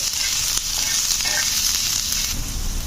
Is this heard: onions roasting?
yes